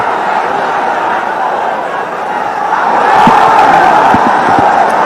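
A large crowd at an Islamic eight-party grand rally roars out a chanted response to a Nara-e-Takbir call, a dense mass of voices that swells louder partway through and holds steady to the end.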